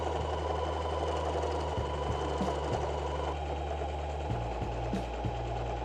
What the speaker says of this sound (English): take it over to the sewing machine and sew all the way down